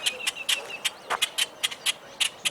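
Grackles or ravens calling near Duck Island in Tucson, Arizona: a series of sharp, bright, repeated calls and chatters in an irregular rhythm, fairly close and moderately loud, with no talk over them.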